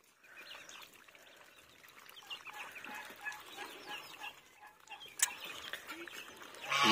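Chickens, mostly young birds, cluck and chatter softly on a farm in an irregular, fairly distant stream, with other fowl noise mixed in.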